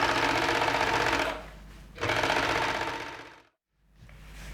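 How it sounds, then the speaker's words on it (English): An overlocker sewing machine runs in loud, fast bursts while finishing the fabric edges of a cape's sleeve piece, stopping briefly between passes and ending in a short silence before starting again. "I'm going to do both of those edges with the overlocker"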